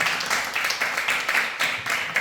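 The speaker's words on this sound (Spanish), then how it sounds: "Les pido un aplauso." An audience claps at an indoor talk about heritage houses, a dense steady patter with faint rhythmic swells throughout.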